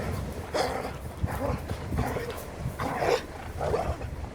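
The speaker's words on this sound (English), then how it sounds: "Dogs are having a good play." Dogs playing on a coastal hillside, producing a series of rough, growly barks and play noises in irregular bursts, fairly close and moderately loud.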